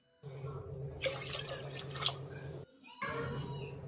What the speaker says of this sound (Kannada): 2 ಗ್ಲಾಸಷ್ಟು ನೀರು ಹಾಕ್ತಾಯಿದ್ದೀನಿ